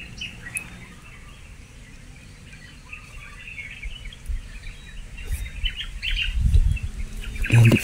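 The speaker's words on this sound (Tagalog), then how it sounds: "Hindi ako nagkakamali, parang ibon yun eh, Commander Isol." A bird calls in a forest within a horror video game, sparse faint chirps over a quiet hissing ambience that thickens toward the end with rustling and low thumps.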